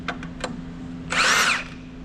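A new Milwaukee power tool gives a short, loud whirring burst of about half a second while driving bolts on a classic Warn winch during restoration, after a few faint knocks.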